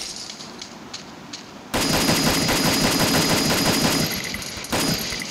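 Rapid automatic gunfire in a battle royale video game bursts in loudly after a quiet start, continuing as dense, sustained volleys with a brief drop before resuming.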